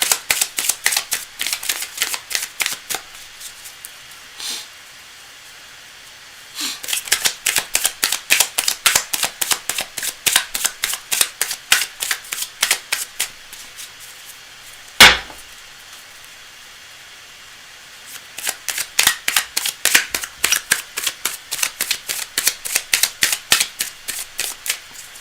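Tarot cards are riffle-shuffled in repeated bursts of rapid crisp clicks, near and fairly loud, with pauses between rounds and one sharp snap midway.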